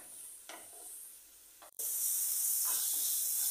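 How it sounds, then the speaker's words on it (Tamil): White pumpkin sautés in ghee for halwa with a steady close sizzling hiss and faint stirring; the sizzle breaks off briefly, then returns louder and brighter. "ஸோ இது கொஞ்சம் பச்சை வாசனை போகிற வரைக்கும் நல்லா வதக்கிக்கலாம் நெய்லியே"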